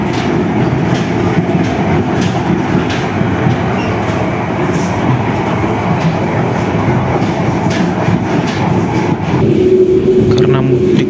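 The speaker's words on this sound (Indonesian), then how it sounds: "Argo Muria. Melintas langsung stasiun Cikampek." Argo Muria express train passing straight through Cikampek station without stopping, a loud continuous rumble and rattle of rail cars with clickety-clack wheel beats and a brief squeal near the end.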